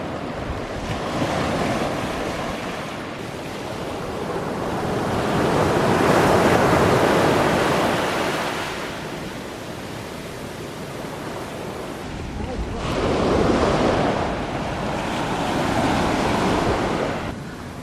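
Ocean waves roll and wash ashore on a beach at Allihies, Ireland, with steady wind buffeting the microphone, the surf swelling louder and easing in slow surges throughout.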